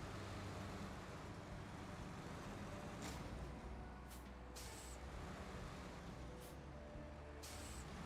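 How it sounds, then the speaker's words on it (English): A truck's air brake in a snowy video game gives off a steady, continuous hiss, with a few brief brighter bursts of air release over constant engine and road rumble, and no talking. "Let's get this truck out of the way."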